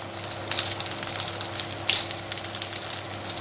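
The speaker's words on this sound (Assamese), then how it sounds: "মই কেৰাহীত ৰিফাইন তেল গৰমাই লৈছো এতিয়া এটা এটাকে ফ্ৰাই কৰিম" Bread paneer pakoda fries in hot refined oil in a wok, a steady soft sizzle with occasional louder crackling pops, heard up close and alone with no talking.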